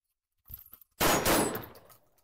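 Two rifle shots from a Vepr or Saiga fired at paper targets on a range, a softer pop followed by a loud sharp blast with a decaying echo, close and alone.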